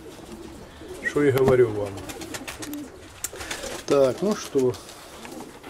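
Young pigeons coo in short throaty bursts, close and moderately loud, while someone speaks in Russian between and over the calls.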